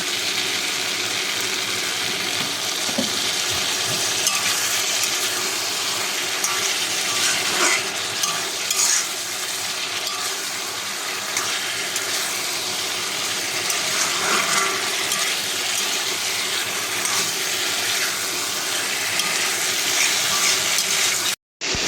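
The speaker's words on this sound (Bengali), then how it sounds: "আর একটু জল দেবো।" Water pours and hisses steadily into a hot pan of frying spices and cumin, a continuous loud sizzling gush lasting many seconds before cutting off abruptly.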